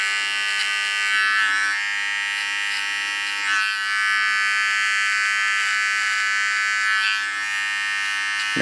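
A small electric hair clipper buzzes steadily while cleaning the line of an ultra short haircut, a close, continuous hum with slight changes in pitch as it moves through the hair.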